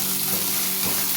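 Ground ginger and green chilli paste goes into a hot pan, giving a brief, steady close sizzle with a faint stirring scrape underneath.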